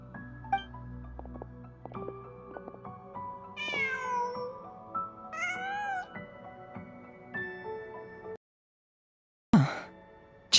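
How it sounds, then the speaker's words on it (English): A cat meows several times in Genshin Impact, short rising calls scattered through a busy game soundscape of layered musical tones, with a brief loud burst near the end after a moment of silence. "Just a cat."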